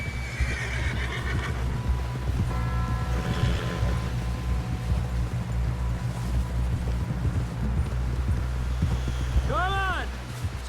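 A horse ridden through a snowstorm in Red Dead Redemption, with hooves clopping in a steady loose rhythm under game voices and ambient wind, ending with a clear whinny near the close.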